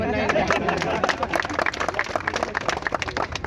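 A crowd of students claps for the boys at an open-book exam gathering, a dense, steady patter of many hands with chatter and voices mixed throughout.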